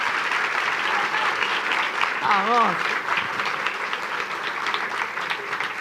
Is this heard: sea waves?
no